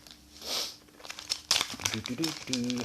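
A plastic bag from a music box set being unboxed crinkles and rustles up close in short bursts, and a voice speaks partway through.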